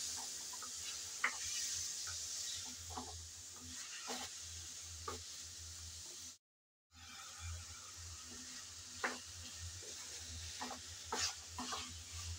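Vegetable stems stirred and fried with spices in a pan, a soft continuous sizzle with repeated scraping strokes of a spoon, briefly cut off in the middle before resuming.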